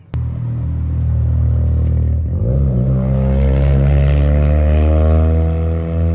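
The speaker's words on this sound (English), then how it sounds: "that is a 400 horsepower RX-7. Boosted, of course. Big turbo." A boosted 400-horsepower Mazda RX-7 with a big turbo drives past in a neighborhood, its engine a loud steady drone that rises in pitch as it accelerates, with no talking.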